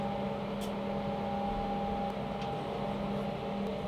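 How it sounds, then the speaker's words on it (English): Cooling fans in a 12U slim UniFi server rack hum steadily with the cabinet door open, a quiet, even drone with a faint tonal whine, heard from about a foot away. "I wouldn't want to hear those fans even with the door shut"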